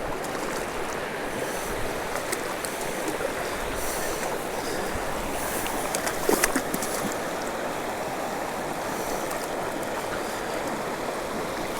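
A mountain stream in the Bighorn Mountains flows under a rock in the river, a steady, close, rushing wash of water with a brief splashy swell midway and no voices.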